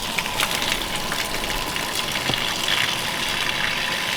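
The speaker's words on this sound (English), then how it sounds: "Alright, so I pressurized and blew the hose." Water gushing and spraying from a blown hose on an outdoor rocket stove water heater, a steady loud hiss of rushing liquid with no talk.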